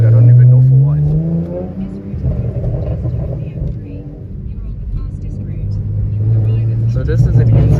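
Exhaust drone and rising revs from a BMW M2 F82 fitted with a Strada Performance exhaust, heard from inside the cabin: loud, continuous engine note that climbs, dips and builds again over about eight seconds.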